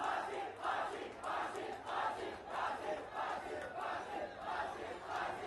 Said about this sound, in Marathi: आपण ही एक प्रकारची गर्दी पाहू शकतो.